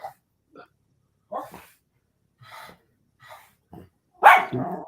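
A dog barking from a television set in a room, several short, sparse barks spread out and rising to one louder, rougher bark near the end.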